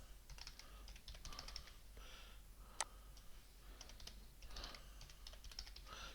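Rapid, irregular clicks of fingers typing a password on a computer keyboard, close and fairly quiet, in short bursts with one sharper click partway through.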